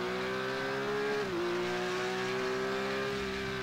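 Porsche 911 race car engine in iRacing, a steady high-pitched whine under sustained load that dips briefly as it shifts and then climbs again, loud and continuous.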